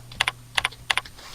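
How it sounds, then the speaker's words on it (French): Keys clatter on a computer keyboard as a short word is typed, three quick pairs of crisp, close clicks spaced evenly apart in an otherwise quiet room. "Donc ici admettons que je tape glucides."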